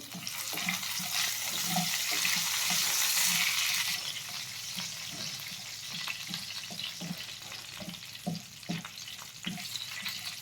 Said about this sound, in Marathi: तेजपत्ता, त्याला थोडंसं फ्राय करून घ्यायचं.